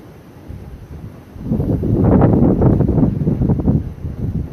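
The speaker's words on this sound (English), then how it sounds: "Got some pretty good wind going on too." Wind gusts across a microphone outdoors near a garage, starting as a low rumble, then swelling after a second or so into a loud, blustery roar that buffets unevenly until the end.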